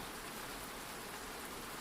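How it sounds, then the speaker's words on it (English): Soft rain falls in a steady, even hiss that fills the space without any distinct drops standing out, gentle and continuous throughout. "And the rain continues to fall, softly, rhythmically"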